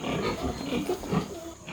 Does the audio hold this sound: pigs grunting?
yes